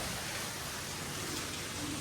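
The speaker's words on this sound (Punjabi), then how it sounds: "ਮੀਂਹ ਪੈਣ ਡਿਆ ਦੋ ਦੂਰ" Rain falls steadily outdoors as a soft, even hiss of drops, faint and unbroken for the whole moment with no voices over it.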